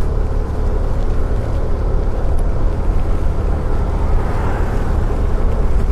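A 2024 TVS Jupiter scooter ridden straight through city streets gives a steady, loud engine drone with road and wind rumble that runs unbroken throughout.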